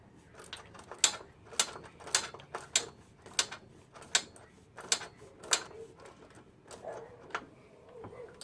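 A Pit Posse chain breaker ratchets on a GY6 cam chain, making a close, quiet run of about a dozen sharp metallic clicks at an uneven rhythm over a soft background.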